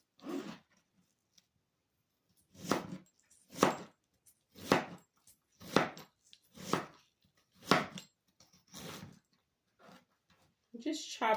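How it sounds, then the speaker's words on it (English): A knife chops onions on a board for a home-style meatloaf, with about nine evenly spaced, crisp strikes, close and clear, with a voice heard faintly at the edges. "So we're just going to chop some onions."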